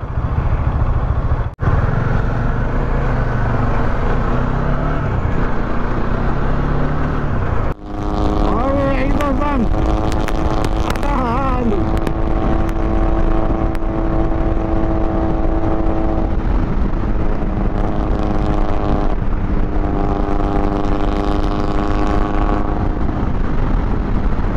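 A Bajaj Dominar motorcycle's exhaust roars loudly and steadily while riding, with wind buffeting the microphone and gear changes shifting the engine note up and down; a voice is heard briefly over it.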